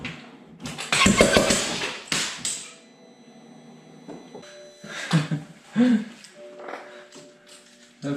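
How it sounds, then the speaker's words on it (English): A rebuilt BMW engine cranks with clattering mechanical bursts, then catches in short uneven revs amid some knocking and rattling, fairly loud and close, without speech. "we'll crank it. It should be enough to build some oil pressure and start the engine"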